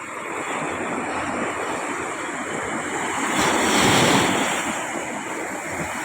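Ocean waves crash and wash continuously, swelling louder midway and then easing, with wind noise over the surf and no voices.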